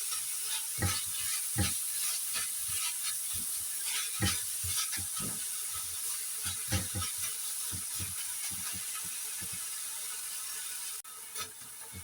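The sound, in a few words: stir-frying pumpkin with pork mince in a pan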